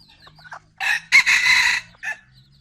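A rooster, a breeding cock, crows once loudly and close, a long drawn call preceded by short clucks and followed by a brief extra note, with no talk.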